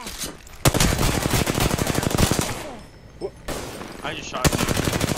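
Rapid automatic gunfire in the battle royale shooter Apex Legends, loud close bursts of evenly spaced shots with a short pause midway before firing resumes, a voice faintly beneath.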